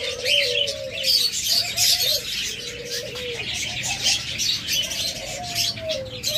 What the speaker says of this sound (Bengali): পর্যাপ্ত অসংখ্য পরিমাণ ঘুঘু পাখি রয়েছে, একদম ডিম পাড়া পাত্রে বসে আছে